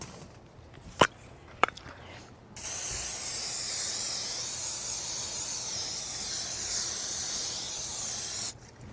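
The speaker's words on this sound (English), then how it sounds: "Forgot butter, so I sprayed some butter on it." Butter spray from an aerosol can sprayed onto food at a campsite, two sharp clicks followed by a long, loud, continuous close hiss lasting about six seconds before cutting off.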